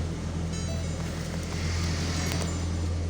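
A 2019 Ford Ranger Raptor idles after a push-button start, a continuous low engine hum with steady tonal droning, moderately loud and unchanging, no talking.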